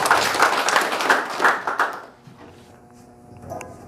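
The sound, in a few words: applause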